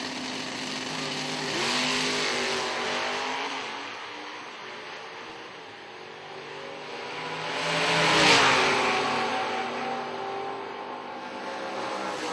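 A West Michigan Auto Body drag racing car roars at a drag strip, its engine swelling and fading, then surging loudly again as the car launches and passes.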